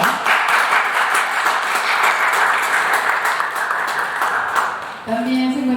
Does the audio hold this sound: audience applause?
yes